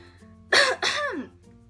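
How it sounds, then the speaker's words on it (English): Two quick, harsh coughs in close succession, near and fairly loud, followed by quiet. "I am coughing a lot in this video."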